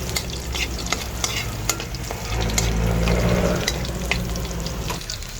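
Garlic fries in hot cooking oil with a dense, close sizzle, punctuated by scraping and tapping of a utensil stirring in the pan, no speech.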